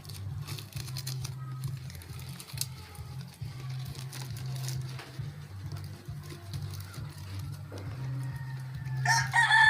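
Chickens cluck steadily nearby over a low background hum, and a rooster crows near the end.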